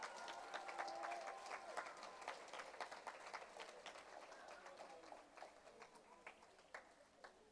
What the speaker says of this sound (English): Give them another round of applause as they come forth.